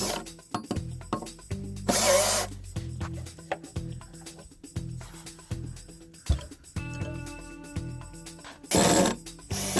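Cordless power drill whirring in repeated short bursts as screws are driven into a pier beneath a wooden deck, with clicks, knocks and handling noises between runs, close and loud.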